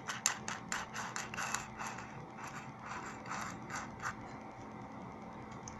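Chuck of a cordless drill from AliExpress being turned and adjusted by hand, giving a run of quick ratcheting clicks that bunch together early and then thin out, close and fairly quiet with no talking.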